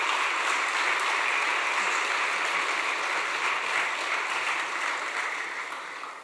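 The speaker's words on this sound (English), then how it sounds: "Can we please get another round of applause" Sustained audience applause at a talk show, steady and full-bodied with no voices, fading slightly toward the end.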